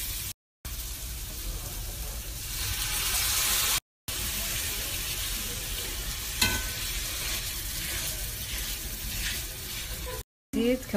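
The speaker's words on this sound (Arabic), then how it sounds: "هقلب شوية وبعدين هأهرس البطاطا اللي أنا سلقاها." Samosa filling being stirred and fried in a pan, with a steady sizzle and scraping strokes heard up close and a few brief gaps.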